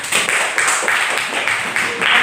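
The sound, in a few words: class applauding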